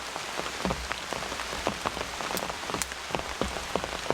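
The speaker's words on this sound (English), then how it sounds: "Not a storm, just raining, but it's wonderful." Steady rain patters on a taut tarp shelter at a campsite, with scattered louder drops tapping throughout over a constant hiss; no voices.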